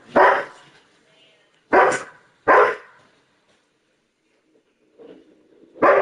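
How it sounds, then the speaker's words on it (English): A dog barks sharply and close by, with three loud barks early on, then a quieter yip and another loud bark after a short silence. "Yeah, dog."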